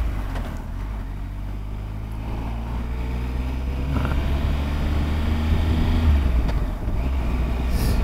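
Triumph Explorer XCx motorcycle engine starting and running, a steady low rumble that swells slightly as it rides, loud and close with wind noise, no talking.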